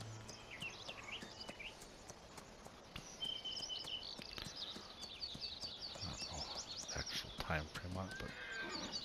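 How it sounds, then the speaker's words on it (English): A horse whinnies in the farming game Farming Simulator 19, high wavering calls over a busy backdrop of hoof clip-clops and chirping birds, with a voice talking throughout. "As you can see, the horse is still there."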